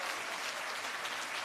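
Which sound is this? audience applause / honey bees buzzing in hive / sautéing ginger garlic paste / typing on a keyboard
audience applause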